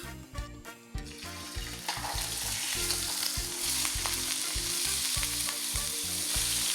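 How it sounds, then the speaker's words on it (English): Mincemeat hits hot oil in a pan for shepherd's pie, a few clattering stirs at first giving way to a loud, continuous sizzle close up. "In a hot pan, add 2 to 3 tablespoons of oil. Add the mincemeat"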